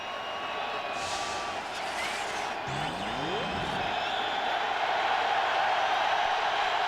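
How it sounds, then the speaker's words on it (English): A large football stadium crowd at a 1999 Packers–Panthers game roars continuously from a distance, with the noise swelling toward the end as fans urge on the Packers defense. "the crowd tries to get into it to help the Packer defense"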